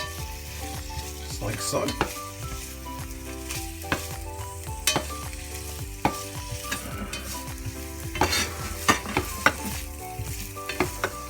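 Onions browning in olive oil over medium heat, a loud continuous sizzle with a spoon knocking and scraping the pan at a regular pace, and a voice speaking briefly over it.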